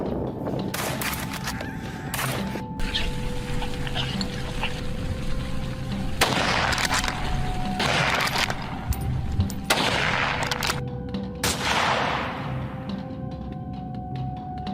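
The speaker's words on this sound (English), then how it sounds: "the gunfire shattered the still morning air" Rifle shots ring out during a wild boar hunt, several sharp loud cracks spaced a few seconds apart, each trailing off over a murmuring outdoor background.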